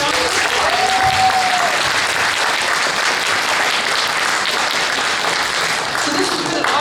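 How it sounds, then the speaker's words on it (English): Audience applause for a speaker at a Toastmasters district training session: a room full of people clapping steadily and loudly for about seven seconds, with a few voices and faint cheers mixed into the clapping. "Everyone, let's give Marcy a round of applause."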